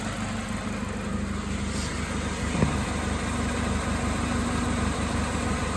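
A 2005 Chevy Malibu 2.2L idles steadily after a head gasket replacement, a low, even engine hum with faint vibration heard from close by, with one brief knock partway through.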